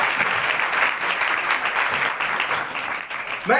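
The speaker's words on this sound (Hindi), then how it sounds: "जोरदार ताली अमन के" Loud, sustained applause fills a school seminar hall in Nepanagar as the audience claps for a student named Aman, an even roar of hands lasting several seconds and tapering slightly at the end.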